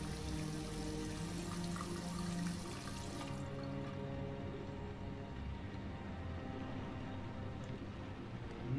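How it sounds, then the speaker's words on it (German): In the video game Heavy Rain, a tap runs steadily while hands are washed under it, with a constant close splashing rush that thins slightly partway through; no one talks. "Hände waschen natürlich nicht vergessen."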